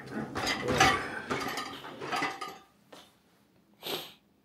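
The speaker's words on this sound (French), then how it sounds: "il faut que je vide le lave-vaisselle, qui est pas vidé" Clinks and knocks of dishes being unloaded from a dishwasher and stacked, a few quick bursts of clattering close by with short pauses between.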